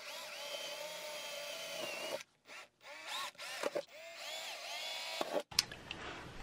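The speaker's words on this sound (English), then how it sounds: "I think I'll just go ahead and drill through at each corner." A power drill bores through an RV wall at the corners of a marked outline, its motor whining steadily for two seconds, then in several short bursts separated by silences, close and loud.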